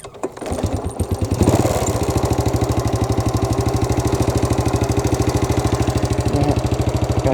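A motorcycle engine chugs steadily close by, a rapid even putter that swells in loudness after a brief start and holds for several seconds, riding past along a rural tamarind-planting area.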